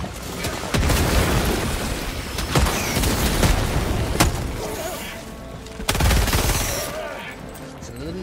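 Shotgun blasts and other gunfire ring out in a PUBG match, loud, sharp repeated reports over a steady din of battle noise, with players talking now and then.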